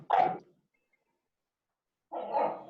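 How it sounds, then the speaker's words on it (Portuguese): A pet dog barks twice at home, two loud, close woofs separated by a couple of seconds of silence. "Meu cachorro começou a atrapalhar agora"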